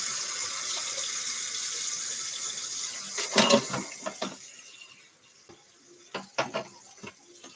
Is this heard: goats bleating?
no